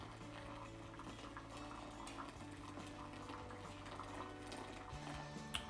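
Hot water poured over coffee grounds for a second pour, a steady continuous trickling and bubbling stream with tonal hum underneath, close and moderately quiet throughout.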